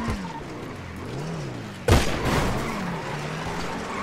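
A single loud gunshot cracks partway through a firefight in GTA, against a backdrop of low droning sound and faint distant activity.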